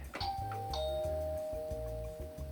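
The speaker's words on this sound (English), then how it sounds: "there is a doorbell and also a light up above" A Playmobil Modern House 9266 toy doorbell plays a repeated electronic ding-dong chime, bright tones ringing over a steady low hum.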